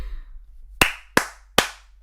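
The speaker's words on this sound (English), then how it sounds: "just quit slapping the table." Three sharp, loud slaps on a hard surface, evenly spaced less than half a second apart, heard close up over a low hum.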